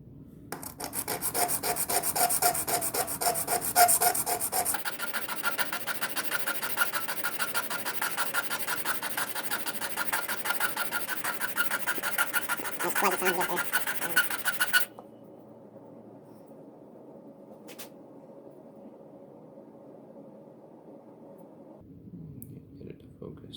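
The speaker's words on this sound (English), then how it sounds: "I'm gonna try to sharpen this a bit more. I got my diamond steel mount" A diamond steel rasps against a circular saw blade being sharpened for cutting glass, giving a steady, gritty filing rub for about fifteen seconds before settling into a quieter scraping.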